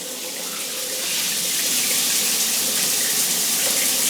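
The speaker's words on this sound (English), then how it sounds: "I came up to show the water pressure upstairs with hot water." A household hot water tap runs at low pressure, a steady hiss of flowing water into a sink that grows slightly louder after the first second and holds constant.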